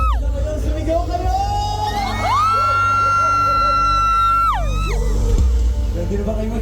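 At a live event, a crowd shouts and whoops, with one voice rising into a long, siren-like wail over a dense, loud babble.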